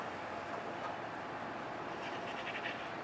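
A Dakota, Minnesota & Eastern freight train rolls past at a distance, a faint continuous rumble with a soft rattle of wheels on the rails.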